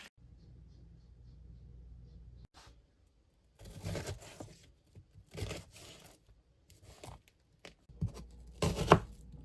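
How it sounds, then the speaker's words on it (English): Knife julienning peppers, onions and tomatoes on a cutting board, heard as a few bursts of quick, close chopping strokes separated by pauses, over a low steady rumble. "before I julienne our peppers, onions,"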